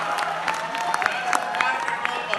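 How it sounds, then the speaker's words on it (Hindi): Audience clapping at a Hindi poetry gathering at a festival in Banda, a steady crowd of hands with scattered sharper claps and some cheering, sustained throughout. "तालियां कम बजा रहे हैं।"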